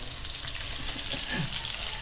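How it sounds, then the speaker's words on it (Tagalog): Fish frying in hot oil in a pan, a continuous close hiss with light crackling and bubbling pops, steady throughout without any voices. "pag nagpipirito ka at meron pa rin kumukulo na ganyan, katulad yan, yan, hindi pa siya luto"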